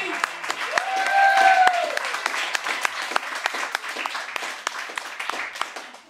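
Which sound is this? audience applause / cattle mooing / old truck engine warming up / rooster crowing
audience applause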